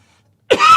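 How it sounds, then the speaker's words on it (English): Two or three sharp coughs burst out suddenly after near silence, loud and close, with a rough throaty tail, studio setting. "Those coughs are all yours, dear."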